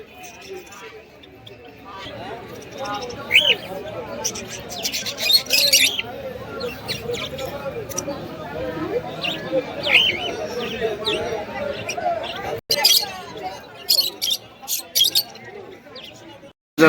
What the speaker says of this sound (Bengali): খাঁচার মধ্যে কিন্তু ফুলশিরা লাইনের কিছু গিরিবাজ পায়রা রয়েছে।